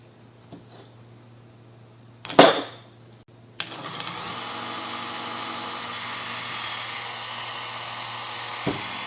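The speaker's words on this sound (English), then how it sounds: "just to show you how much torque this and how powerful this motor is, I'm gonna hook it up while there is nothing actually holding it" ABS motor module from a car's anti-lock brake assembly running unloaded on a bench, starting after a sharp tap and holding a steady high whine for several seconds, close and loud.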